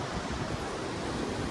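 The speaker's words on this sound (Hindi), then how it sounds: "पानी की आवाज़ सुन सकते हैं आप," Rushing river water in Kumrat Valley, a steady, dense roar with no breaks, loud and continuous throughout and heard alone without voices.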